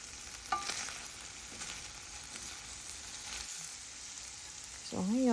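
Cubed tomatoes frying in a pan with baby octopus, a steady close sizzle throughout with light stirring scrapes, and a brief voice at the very end.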